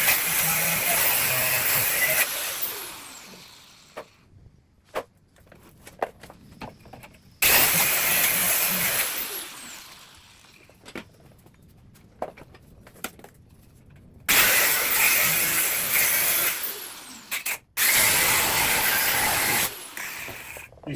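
An abrasive cutting disc slices through a rusty shackle bolt during rear end removal, in four loud, harsh, whining bursts with quieter gaps of tapping and handling between them.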